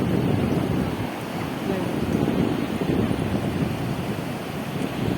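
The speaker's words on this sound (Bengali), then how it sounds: "দেখো কত ঢেউ," Sea waves break and rumble steadily on the shore while strong wind buffets the microphone, a loud continuous wash with faint voices underneath.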